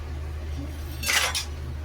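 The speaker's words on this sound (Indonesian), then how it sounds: "Ini aku mau nyuci piring dulu." A short burst of dishes and cutlery clinking during washing up in a home kitchen, a single close rattle about half a second long over a low steady hum.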